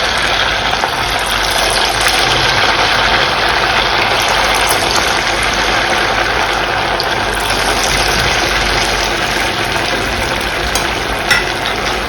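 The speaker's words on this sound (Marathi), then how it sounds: "आपले तेल पण आता व्यवस्थित गरम झाले आहे. आपण आता त्याच्यामध्ये हळूहळू वडे सोडूया." Sabudana vadas fry in hot oil, a loud, dense, continuous crackling sizzle heard close up for the whole stretch with no talking over it.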